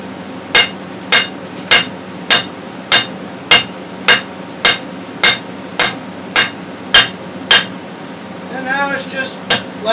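Steady, evenly spaced hammer blows ring out, about a dozen sharp strikes, as steel is forged and drawn out for a draw knife blade, with a voice starting briefly near the end.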